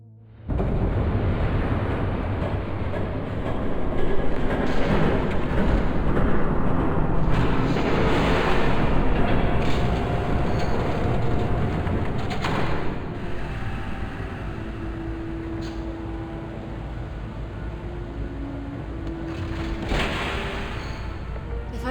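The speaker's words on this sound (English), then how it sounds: "There's a train coming." A train passes in Batman: The Telltale Series, a heavy continuous rumble that rises, holds loud for many seconds, then eases slightly while grinding on steadily.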